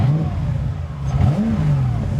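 A BMW E30 coupe fitted with an M60B44 V8 engine revs up and falls back in quick, rising and dropping engine pitches, close and loud, with no talking.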